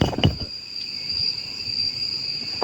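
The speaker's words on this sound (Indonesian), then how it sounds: "Ini lagi ternak jangkrik." Crickets chirp at a cricket farm, a steady high-pitched trill holding throughout with a brief louder rustle near the start and another near the end.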